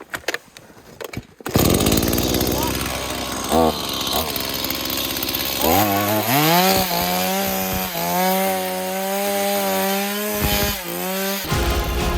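Homemade petrol-powered rail draisine engine being started: a sputtering crank and brief catch, then the motor roars up into a loud, steady buzzing idle with rising and falling revs, close to the listener.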